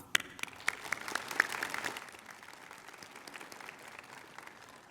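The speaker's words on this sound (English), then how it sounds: "let's take a moment to give our supportive faculty, staff, family, and friends another round of applause" A graduation commencement crowd gives a round of applause for faculty, staff, family and friends. A few sharp, close claps stand out at the start, then the clapping thins and fades into a softer, distant patter.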